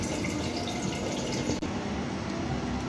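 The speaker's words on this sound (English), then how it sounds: "So the mixture, I'm pouring it into those containers equally." Chopped vegetable mixture of carrots, cabbage, onions, fresh and green pepper and garlic poured wetly into several containers, a steady close sloshing trickle running throughout with one brief break partway.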